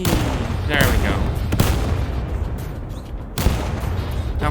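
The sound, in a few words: artillery shells exploding in a tactical shooter video game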